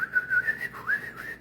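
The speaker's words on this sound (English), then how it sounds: "Let me try see if I could get me whistling." A person whistling a short wavering tune up close, a thin breathy pitch that dips and rises in a few phrases, with no talking.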